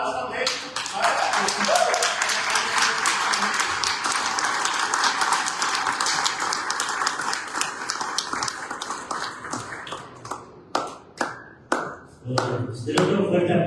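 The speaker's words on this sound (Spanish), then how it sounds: "Un fuerte aplauso, amén." Church congregation in Puerto Vallarta applauding during a Sunday morning service, a loud sustained burst of many hands clapping that thins into scattered, separate claps near the end, with voices heard over it.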